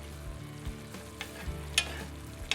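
Bell pepper and fennel sauce gently simmers in an uncovered pan, giving a soft continuous sizzle and bubble with a few sharp pops and utensil clicks, close and fairly quiet, with no talking.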